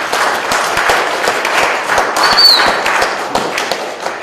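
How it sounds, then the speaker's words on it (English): An audience at a 2014 school computer studies fair claps together in a steady, dense wash of applause for about four seconds, with sharper individual claps popping through near the microphone. "Please also give her a round of applause."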